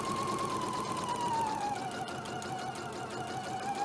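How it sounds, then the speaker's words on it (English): Quiet, continuous hum of a sewing machine stitching around the edge of a hip purse pocket, running steadily without a break. "I'm going to sew all the way around"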